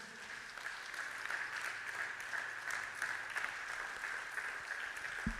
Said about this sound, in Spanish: Y ese aplauso es para ese Padre amoroso que tenemos.